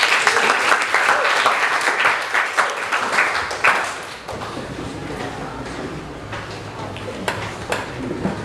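A classroom of students claps for a presenting student group, loud brisk clapping for about four seconds that then thins into scattered claps and light classroom noise with some voices.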